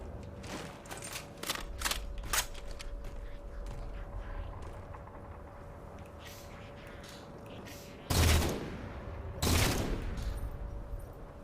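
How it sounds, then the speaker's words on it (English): Sniper rifle fire in Halo 4: scattered sharp cracks early on, then two loud booming shots a second or so apart, set against a steady hum of game ambience. "Some really lousy shots from those two snipers"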